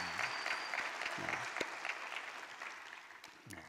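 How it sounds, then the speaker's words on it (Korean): A church congregation applauds during a Wednesday worship service, a fairly faint, steady patter of many hands that slowly fades, with a few low murmurs and sounds of movement near the end. "우리 박수 한번 하십시다."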